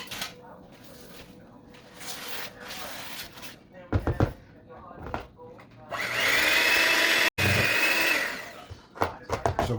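An electric mixer beats oatmeal cake batter in a loud whirring burst lasting a couple of seconds, surrounded by kitchen clatter and talking.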